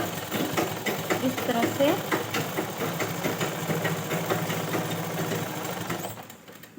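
An electric sewing machine hums and rattles steadily while stitching a cord for a blouse, running continuously at close range before stopping near the end, with a voice briefly heard over it.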